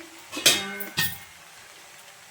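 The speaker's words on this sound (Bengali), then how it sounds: "এখন আমি এই খুন্তিটা কড়াইয়ের মধ্যে দিয়ে রেখে দিচ্ছি" A metal spatula is set down in a wok of rohu fish head with Malabar spinach, giving two sharp metallic clinks about half a second apart, then a quiet stretch with faint kitchen hum.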